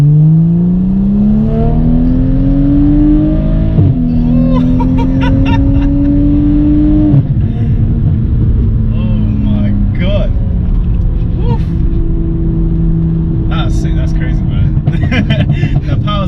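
A tuned stage 2 BMW 335i E92 with an N55 engine, stock turbo and DCT gearbox, heard from inside while accelerating hard, engine note rising through several gear changes, with people talking over it.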